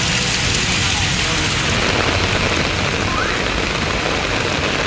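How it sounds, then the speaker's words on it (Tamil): Heavy rain pours steadily during a sudden downpour whipped by gusty squall winds around Natham in Dindigul district, Tamil Nadu, a dense, loud, continuous hiss that fills the whole clip without pause. "திடீரென சூறைக்காற்றுடன் மழை பெய்ததால்"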